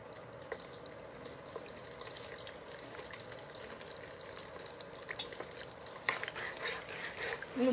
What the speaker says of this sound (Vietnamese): Rồi dầu đã sôi rồi thì bây giờ mình sẽ cho trứng vào mình chiên trước nha các bạn